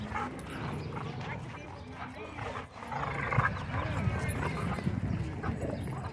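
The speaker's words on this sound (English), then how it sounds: "Less growling and more pulling." A husky growling while playing tug of war at a dog park, the growls continuous and close under steady outdoor background noise, with a person talking over it.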